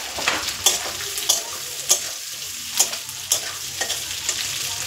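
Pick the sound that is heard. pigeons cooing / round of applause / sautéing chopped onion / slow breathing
sautéing chopped onion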